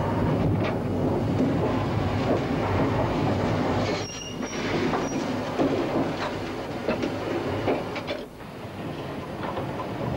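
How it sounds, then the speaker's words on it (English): A steam train accelerates away at the top of the Lickey incline, a dense, loud continuous rail rumble with brief high squeals and clatter, no voices. "we see the procedure at the top of the bank as the train accelerates away from our jinty"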